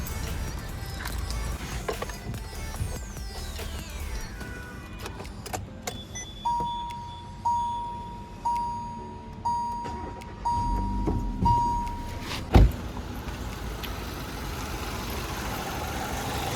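A black Hyundai Verna 1.6 petrol engine starts and settles into a smooth, quiet idle, with a steady hum, a few periodic chimes and clicks, and a brief sharp knock near the end.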